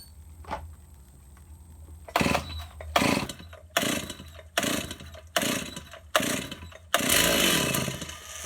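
Stihl 038 Magnum chainsaw fitted with a new carburetor, fired up in a series of loud, close bursts that die away between them because it will not hold an idle.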